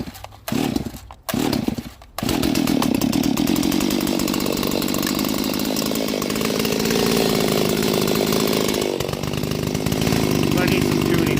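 A Stihl 026 chainsaw is pulled over with a few short, sputtering tugs, then catches and runs loud and steady close by, with a slight change in tone near the end.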